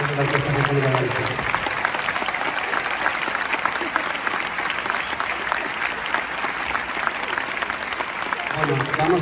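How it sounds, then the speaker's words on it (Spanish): Audience applause for the Galicia Symphony Orchestra at a concert, a dense sustained roar of clapping from a large crowd that fills the whole stretch, with brief musical tones at the start and end. "Otro aplauso para Lima, la Orquesta Sinfónica de Galicia"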